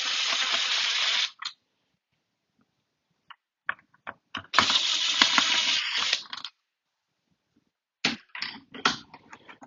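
Screws are backed out of a dial ring in quiet, intermittent bursts of ratcheting clicks separated by short pauses.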